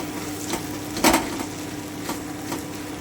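Boiled vegetables mashed in a pan with a utensil, a few soft scrapes and knocks with one louder thud in the middle, over a faint sizzle.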